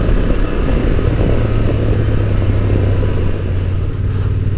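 2023 Honda Transalp motorcycle engine running at low revs, a close, continuous rough rumble with a steady low hum and no talking.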